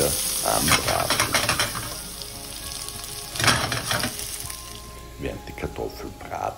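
Boiled potato slices crackle and sizzle in a frying pan for a Spanish tortilla, with bubbling bursts and occasional stirring scrapes rising and falling over several seconds.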